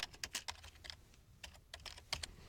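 A search query is typed on a computer keyboard, with quick light key clicks in short irregular bursts, close and quiet.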